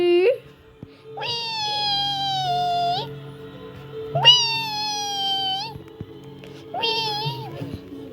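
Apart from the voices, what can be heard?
cat meowing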